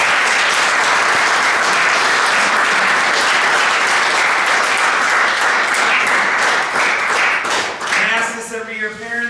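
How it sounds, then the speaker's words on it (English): A crowd at a football banquet claps steadily for several seconds in dense, loud applause that fades near the end as a voice starts speaking. "you need to clap for your parents."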